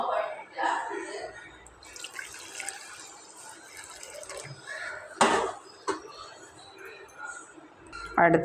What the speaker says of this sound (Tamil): இன்றைக்கி நம்ம இந்த பவுலில் வந்து ஒரு செட்டு ஊற்றிக்கலாம்